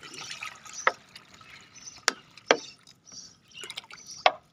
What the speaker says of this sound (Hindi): दोनों बॉल भर देते पानी में